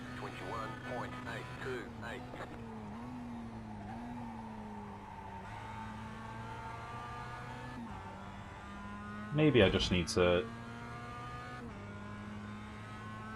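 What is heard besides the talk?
Mazda MX5 race car driving at Zandvoort in a racing game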